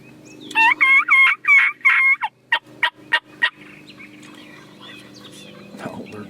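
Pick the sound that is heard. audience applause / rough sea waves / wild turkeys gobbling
wild turkeys gobbling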